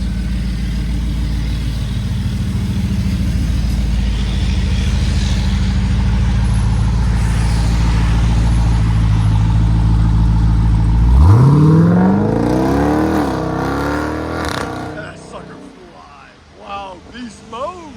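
A 2021 Jeep Grand Cherokee Trackhawk with a supercharged 6.2L V8 and Solo Performance bolt-on exhaust idles with a deep, loud rumble, then revs sharply with a rising roar before falling back, while a voice talks over it near the end.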